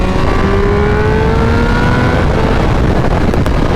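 A 2022 Triumph Speed Triple 1200 with an ECU flash tune pulls hard, its engine note loud and close, with a rising whine as it accelerates through the revs and no voices over it.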